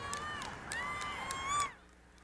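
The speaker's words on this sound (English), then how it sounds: "applause that is erupted outside the governor's mansion" Crowd outside a governor's mansion breaking into applause and cheers, with rising whoops and clapping that swell briefly and then cut off into quiet.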